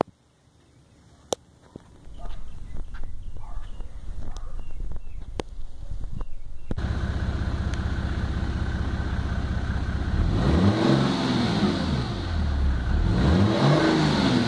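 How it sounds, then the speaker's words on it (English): A 1999 Mercedes E300 turbo diesel engine, converted to run on vegetable oil, starts and idles roughly, then revs up and down twice in rising and falling surges, with a turbo whistle over the roar. "You can actually hear the, uh, the turbo"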